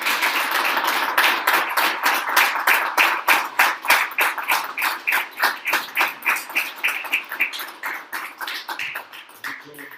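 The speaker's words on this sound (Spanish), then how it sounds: "Yo te mando un aplauso" Rhythmic, fairly close clapping from a roundtable audience, many quick regular claps in steady succession that gradually thin and soften toward the end.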